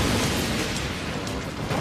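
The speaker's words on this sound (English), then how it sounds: "the explosion occurs in the middle of the track" A loud, sustained roaring blast of noise from a fireball explosion in the middle of a race track, broad and constant, filling the whole moment without a break.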